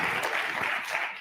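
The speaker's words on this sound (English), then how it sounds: "a round of applause for our 3 contestants on Next Generation Crops" Brief audience applause for three contestants at an innovation session on next-generation crops, a soft, distant wash of clapping that fades slightly toward the end.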